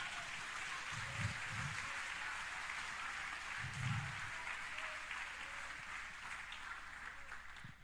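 A church congregation applauds during a Portuguese-language sermon, making a steady, fairly faint wash of clapping with a few low thumps.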